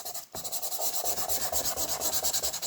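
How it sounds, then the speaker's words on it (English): Green paint smudged across a recycled surface, a steady rapid rubbing with repeated short strokes, close and fairly quiet, with no voices. "if I smudge some of this green, which I'm inclined to do now"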